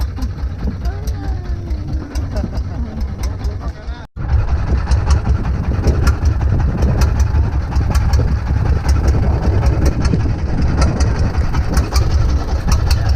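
A boat engine runs steadily on a rocking boat heading to Pulau Datu off Batakan beach, a loud low hum throughout with a brief dropout, while people talk over it.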